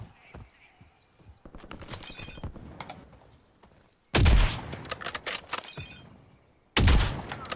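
Sniper gunfire in GTA V role play, sharp loud cracks bursting in at two points after a quieter stretch of scattered clatter and movement, with rapid follow-up reports.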